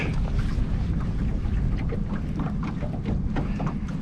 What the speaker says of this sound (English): Overcast, windy day.